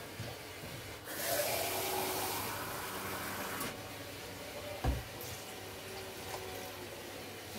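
Water pouring from a tap into a cooking pot of chickpeas with white beet leaves, rice and bacon: a faint hissing rush starting after a second, with clicks and a clunk near five seconds; no talking.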